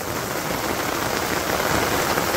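Rain falling steadily in a Bangladeshi village, a dense even hiss of drops striking surfaces close by, constant in level and without voices.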